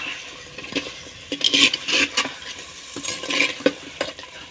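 Garam masala being stirred into handi chicken in a clay pot, with scraping spoon strokes over a soft sizzle, the stirring coming in irregular bursts that grow louder midway and stay close.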